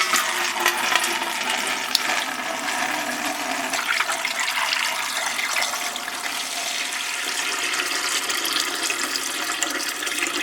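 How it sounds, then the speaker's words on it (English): Water pours steadily into the bottom of an All American 921 pressure canner pot, about a gallon filling two to three inches deep, a continuous close rushing splash with no pauses. "we're going to add about 3 inches of water into the bottom of the pot."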